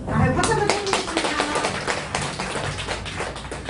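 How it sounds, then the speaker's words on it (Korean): Audience claps together at a poetry book launch concert held in a café, with overlapping voices and chatter mixed in among the applause. "박수 한번 해주겠습니다."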